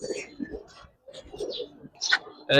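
Silver-coloured pigeons coo in short soft bursts, with a few chirps in between and a sharper flutter at the end. Voices talk nearby throughout.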